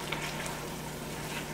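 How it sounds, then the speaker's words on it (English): Hot peanut brittle mixture with butter sizzles steadily in a microwave-heated bowl, a soft continuous hiss with faint crackles, close and alone with no talking. "Listen to that sizzle."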